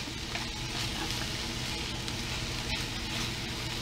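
Green onions sizzling in a pan, a steady crackling hiss that is close and continuous, with no voices.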